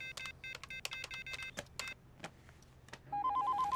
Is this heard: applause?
no